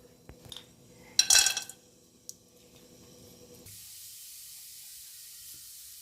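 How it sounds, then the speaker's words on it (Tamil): A few light clinks, then a sharp burst of sizzling as black pepper and cumin hit hot oil for tempering pongal, settling into a quieter steady hiss. "பொங்கல் தாளிக்கிறதுக்கு மிளகு சீரகம் போட்டுக்கலாம்."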